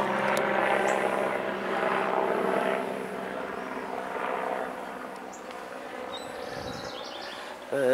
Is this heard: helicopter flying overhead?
yes